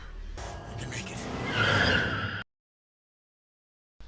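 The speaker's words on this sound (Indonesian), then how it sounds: "Mereka membawa mobil ibu-ibu kaya ini dan bergegas pergi dari sana." A car driven off in haste during a lawless night in a Purge: Anarchy film scene skids and screeches, its tire squeal building loudly over engine roar for about two seconds before cutting off abruptly into silence.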